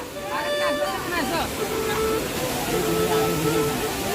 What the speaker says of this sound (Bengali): এই বামনি ফলসের একদম নিচে আমরা রয়েছি অনেকেই রয়েছে এখানে আর সবাই স্নান করছে